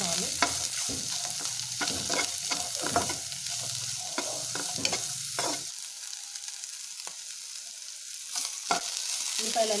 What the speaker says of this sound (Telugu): ఉల్లిపాయ ముక్కలు వేసుకొని కలర్ మారే వరకు ఫ్రై చేసుకోవాలి.